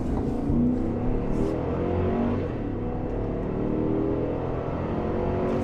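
A 2021 Cadillac Escalade with a 6.2-liter V8 accelerates, its steady engine drone rising under cabin noise and holding loud and near throughout without any talk.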